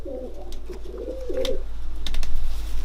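Pigeons cooing: a few soft, rolling coos repeat close by over a low steady hum, with a few faint chirps near the end and no voices.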